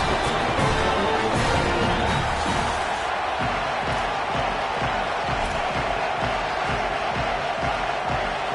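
Stadium crowd roars steadily before kickoff of a Florida versus Clemson college football game, a dense, loud, continuous cheer filling the whole stretch with no break.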